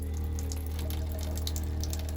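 Water runs from an RV tub faucet while the camper's water lines are winterized, a steady, even rush of flow that continues without pause.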